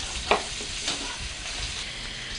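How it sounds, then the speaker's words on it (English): Steady hissing sizzle of food frying in hot oil, with a couple of sharp pops and crackles breaking through early on. "Looks like it's deep frying to me."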